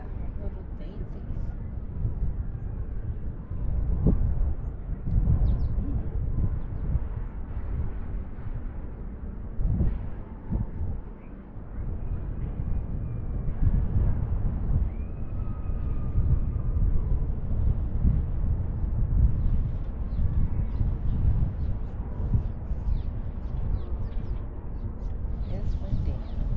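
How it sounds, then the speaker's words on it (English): Gusty wind buffets the microphone on the Breckenridge Five SuperChair chairlift in summer, a steady low roar that persists throughout, with people chatting over it. "It's windy."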